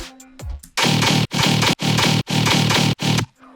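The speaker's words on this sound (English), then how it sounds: "That's pretty much it for the low body part," The low body layer of a tearout bass: a loud, gritty distorted bass synth pulses in five heavy sustained hits with short gaps between them.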